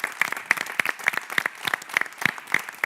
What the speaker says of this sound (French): Et on change le sens, on vous applaudit.